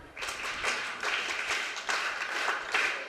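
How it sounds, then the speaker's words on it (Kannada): An audience claps for a student in a hall, a steady, moderately loud patter of many hands that carries on with slight swells across the whole stretch. "ಮೇಘಶ್ರೀಗೆ ಇನ್ನೊಂದ್ಸತಿ ಒಂದು ಚಪ್ಪಾಳೆ ತಟ್ಟಿ"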